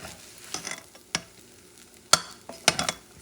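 Chuck steak fried rice stirred in a pan on an electric stove, a few sharp scraping strokes of the utensil over a soft sizzle, close and otherwise quiet.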